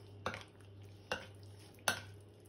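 Egg mixture for a tortilla being mixed with butifarra sausage in a bowl, three evenly spaced clinks of a utensil striking the bowl, close and fairly soft, over a faint steady hum.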